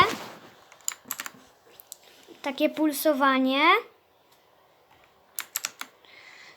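Keys clicking on a backlit computer keyboard in two short bursts of quick taps, near and clear, with a person talking between them.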